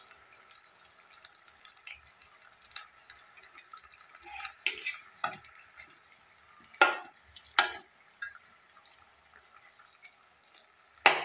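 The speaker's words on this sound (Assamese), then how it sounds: "এইদৰে ইলুটি শিলুটিকৈ অলপ ভাজিব ৰংচঙীয়াকৈ" Small snacks fry in a pan with a quiet sizzle, punctuated by scattered clicks and a few sharp scraping taps of a utensil against the pan, no voices.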